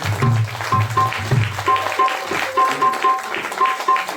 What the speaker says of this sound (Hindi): व्यासपीठ का बड़े प्रेम भाव और श्रद्धा के साथ स्वागत कर रहे हैं, ताली बजाकर।